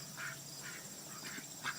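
Ducks quack in a slow, regular series of four calls, faint and somewhat distant over a steady background hum.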